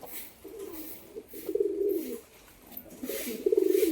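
Pigeons coo nearby in three distinct low, rolling phrases, the last one pulsing rhythmically, with faint background hiss between calls.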